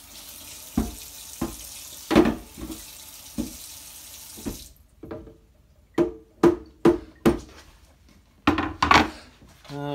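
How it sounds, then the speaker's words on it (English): A cutting board rinsed under a running kitchen tap, a soft hiss of flowing water that stops midway, punctuated by a series of sharp knocks and clatters of the board against the sink. "Let me rinse this board off."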